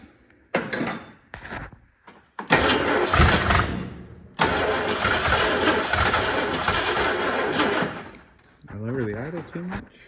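A 1979 Ford F350 Ranger XLT 4x4 dentside truck engine, left sitting for 40 years, cranks in a few short bursts, then catches and runs rough and loud near the microphone before settling briefly, with a voice heard toward the end.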